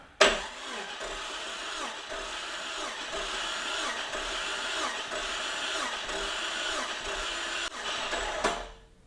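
A Jeep Cherokee XJ engine cranks over steadily on its starter for several seconds, a rhythmic mechanical whirring that stops abruptly near the end.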